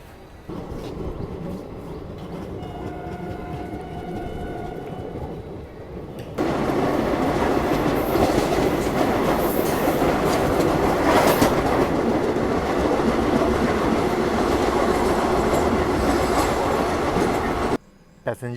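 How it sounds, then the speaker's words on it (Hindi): The Katni–Bhusaval express pulls out of a station, heard from on board: a quieter rumble first, then a sudden, steady louder roar of wheels on rails with rhythmic clatter that cuts off at the end. "मात्र 2 मिनट ट्रेन यहाँ पे रुकी और डिपार्चर हो गया।"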